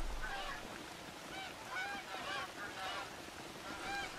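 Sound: geese honking in theHunter: Call of the Wild video game

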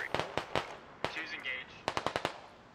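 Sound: gunfire in the video game Squad

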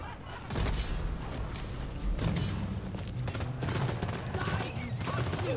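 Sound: gunfire in video game Deep Rock Galactic

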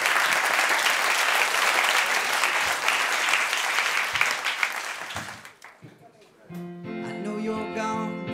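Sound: audience applause

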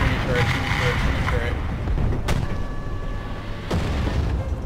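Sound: artillery fire barrage in the video game War Thunder

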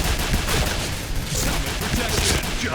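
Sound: Pindad SS3 rifle gunfire in video game Point Blank

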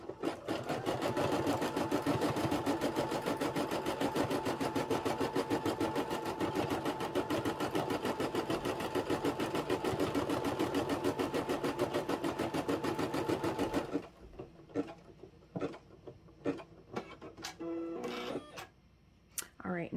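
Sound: Brother embroidery machine sewing a tack down stitch

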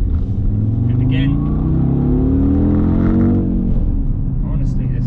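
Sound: Audi RS Q3 car accelerating away

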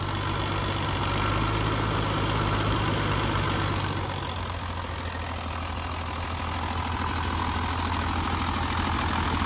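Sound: Yuchai 260 diesel engine idling

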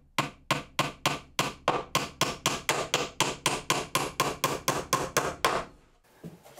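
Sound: hammering nails into pallet wood shelf

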